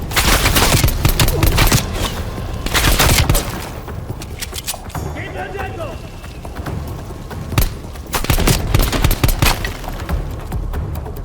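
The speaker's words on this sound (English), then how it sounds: "I was wondering who was shooting me here." Gunfire from a Call of Duty Black Ops Cold War campaign battle, with loud repeated bursts and fusillades, heavy booms and thuds, easing briefly in the middle before more rapid shots resume.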